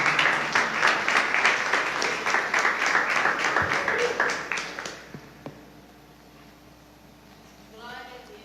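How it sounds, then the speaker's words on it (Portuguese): A church congregation claps together in a steady, even rhythm of loud claps for about five seconds. The clapping then stops and leaves a quiet room with faint sounds. "Receba o servo de Deus com palmas para Jesus."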